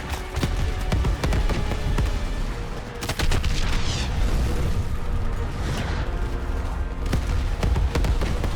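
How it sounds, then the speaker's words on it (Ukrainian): Gunfire rattles through a Call of Duty: Modern Warfare Remastered mission, with loud, continuous bursts of automatic fire, sharp cracks and booms packed densely together over a steady din of battle. "Де, по кому ви там стріляєте?"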